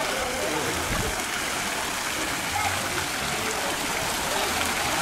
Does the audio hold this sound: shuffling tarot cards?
no